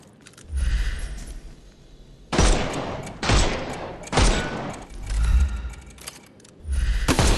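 Gunfire from the video game Sherlock Holmes Chapter One, several loud booming shots in irregular bursts with ringing tails, with no talk over them.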